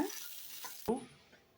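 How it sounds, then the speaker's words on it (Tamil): Ginger and garlic sautéing in hot oil in a pan for a village country-chicken curry masala; a soft, quiet sizzle with a brief stirring scrape near the middle. "இப்போ இது கூட இஞ்சி பூண்டு சேர்த்து ஒரு நிமிஷம் போல் வதக்கிட்டு ஆறுனதும் அரைச்சிக்கலாங்க"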